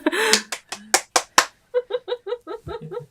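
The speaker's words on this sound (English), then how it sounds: "stop clapping" A run of about a dozen sharp, close hand claps in quick succession, loud and irregular, with the later claps softer and more muffled, in a small room during a podcast recording.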